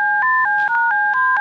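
A telephone number dialed on a keypad, a quick run of about seven crisp, evenly spaced touch-tone beeps, close and loud with no other sound.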